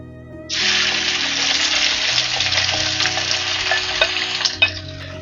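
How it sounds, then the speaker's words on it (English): Pork sizzling as it drops into a hot oiled pan for a pork and mushroom stir-fry, a sudden loud frying hiss that holds steady for several seconds with small crackles and spatters, then cuts off abruptly near the end. "And then I'm going to add in the pork."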